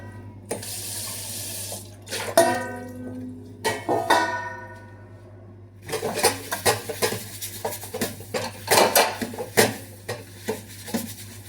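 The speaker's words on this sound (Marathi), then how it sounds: "तर मी आता पटपट भांडी घासून घेते." Dishes being scrubbed and rinsed by hand at a kitchen sink with running tap water, clattering utensils and bursts of splashing that start, pause and resume.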